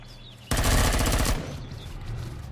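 Loud burst of automatic gunfire from a weapon in the space survival video game Empyrion Galactic Survival, a rapid rattling volley lasting under a second then cutting off, leaving low background game ambience.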